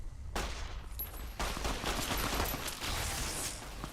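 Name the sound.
pistol gunfire in Fallout video game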